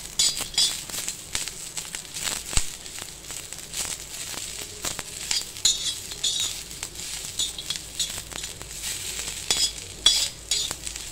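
Grated coconut roasting with onions in a pan, stirred with a spoon: a soft sizzle beneath repeated scraping strokes and light metallic clinks, close and continuous, with no talking.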